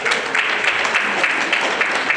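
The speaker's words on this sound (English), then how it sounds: "let's give him a round of applause" Mourners at a celebration of life give a round of applause, a steady dense wash of many hands clapping together from a room full of people.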